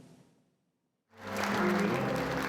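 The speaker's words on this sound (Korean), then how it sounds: "후배 선수들의 박수갈채를 받으며 등장하는 장성출 선수." After a faint fading sound and a brief silence, fellow billiards players break into steady clapping that rises quickly and holds for over a second as a veteran player enters.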